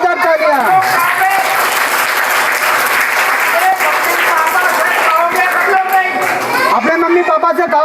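Schoolchildren at a magic show in an Indian school break into loud, dense applause, hands clapping rapidly for several seconds while a voice and chatter come through over the clapping.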